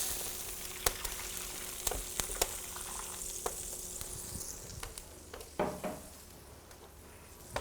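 Butter mixture and stock go into a hot paella pan in a wood-fired pizza oven, a steady close frying sizzle with a few sharp clanks and a brief louder splash of liquid, no voices.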